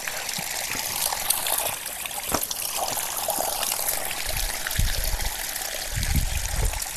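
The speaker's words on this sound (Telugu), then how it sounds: "భూమిలోకి వెళ్ళి నీళ్ళు వస్తున్నాయి" Steady water flowing up from the ground near a waterfall trickles and flows continuously, close by, with a few low gurgling bursts toward the end and no talking.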